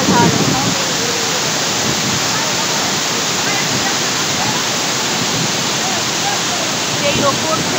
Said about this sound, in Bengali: সেই ওপর থেকে ধারা বইছে এবং সেই জলধারা ধীরে ধীরে নিচে নেমে আসছে